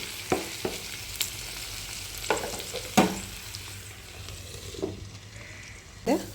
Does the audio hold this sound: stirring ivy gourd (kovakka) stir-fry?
yes